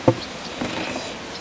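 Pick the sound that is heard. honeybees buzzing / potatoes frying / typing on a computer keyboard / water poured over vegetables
honeybees buzzing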